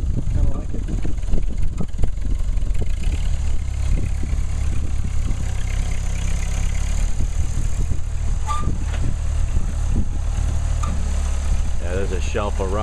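A 1948 Ford 8N tractor engine chugs and idles steadily nearby while pushing dirt, a low constant rumble with occasional voices speaking over it.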